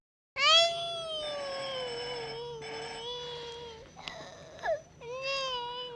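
A cat in a 1970s-era film scene meows in long, drawn-out wails, several calls in a row with brief pauses between, fairly close and clear with no talk over them.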